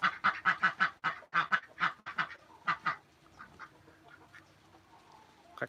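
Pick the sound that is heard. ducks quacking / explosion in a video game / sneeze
ducks quacking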